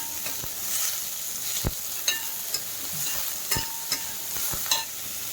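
Onion stirred into a pan of sizzling ginger, garlic, carrot and mushroom, a soft steady fry hiss broken by several sharp scrapes and clicks of a spatula against the pan.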